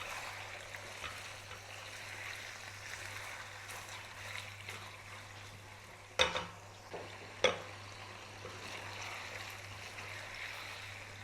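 Chicken pieces turned over and frying in a karahi: a steady low sizzle runs throughout, broken by two sharp clatters around the turning, with no talk.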